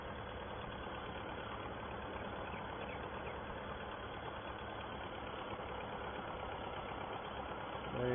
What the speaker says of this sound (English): This is our tractor that replaced the Farmall.